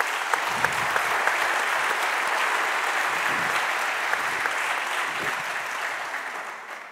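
Audience applauding in a conference hall during a talk on health data exchange and participatory medicine, a steady dense wash of clapping held for several seconds before tapering slightly at the end.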